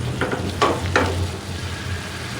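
Eggs added to potatoes frying in a pan give a loud, steady sizzle close by, with a couple of brief bursts of stirring or scraping partway through.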